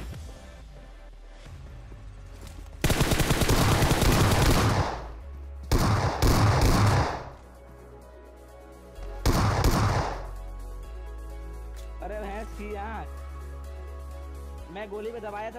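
Bursts of rapid automatic gunfire in PUBG Mobile, three loud volleys of a few seconds each with quieter game ambience between, and faint voice-like sounds near the end.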